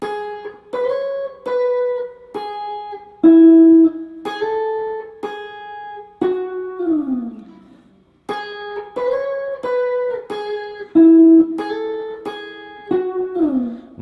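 Soft finger-plucked electric guitar riff, single notes and slides in a repeating phrase, close and clean with no other sounds.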